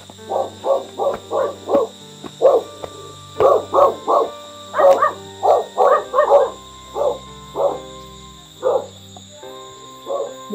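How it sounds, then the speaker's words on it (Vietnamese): Several village dogs bark in repeated, rhythmic bursts at a moderate distance, one after another with short pauses between them, over a steady background hum. "Mỗi nhà ở phần phía bên này là có chó thôi."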